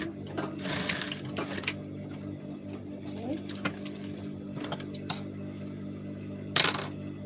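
A sewing machine stitches a uniform tunic in short, uneven runs of whirring, with small clicks and taps between them and one sharp clatter near the end, all fairly quiet and close by.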